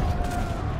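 Cannon fire in the video game Risen 3: Titan Lords, a dense, continuous rumbling barrage of booming shots lasting under a second, loud and steady throughout with no talk over it.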